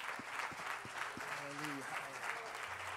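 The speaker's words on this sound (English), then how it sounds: "Can we give the Lord a hand clap of praise?" A church congregation claps in praise during a worship service, steady applause with a few sharp, distinct claps, while a voice speaks faintly beneath the clapping.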